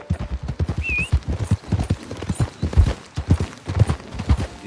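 Hooves clip-clop in a quick, steady rhythm as a horse rides toward camp in Red Dead Redemption 2. The beat is loud and close, with a short, high whistle or bird call near the start.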